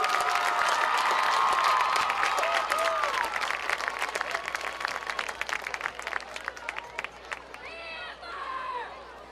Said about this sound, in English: give these guys some applause